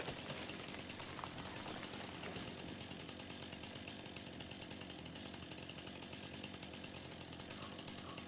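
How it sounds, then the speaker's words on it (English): Chainsaw in Farming Simulator 25 cutting down a tree, a steady loud buzzing drone that runs without a break from start to finish, with no talk over it. "trying to run with a chainsaw doesn't work"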